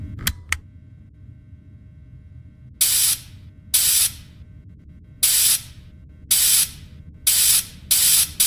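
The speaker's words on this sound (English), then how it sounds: "So go ahead and start spraying the suit, making sure that no electronics were left inside of the suit after removal." Video game sound of cleaning spray being applied to a suit: six short, loud aerosol hisses of about half a second each, spaced at a steady rhythm after a couple of faint clicks over a low hum.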